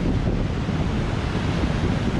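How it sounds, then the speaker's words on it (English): Steady crashing surf at Myrtle Beach fills the clip, mixed with strong wind buffeting the microphone; loud, continuous and close, with no voices. "I would not be kayaking in these waves"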